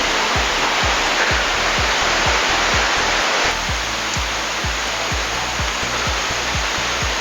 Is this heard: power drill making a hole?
no